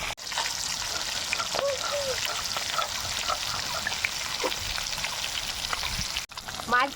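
Fish frying in hot oil in a pan, giving a steady crackling sizzle that runs throughout at moderate level, with a brief break near the end.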